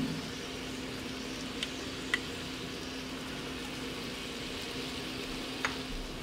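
Garlic sautéing in a pot for beef stew makes a faint, steady sizzle and crackle close by, with a couple of light clicks and no talk.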